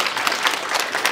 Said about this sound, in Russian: Аплодисменты нашим гостям.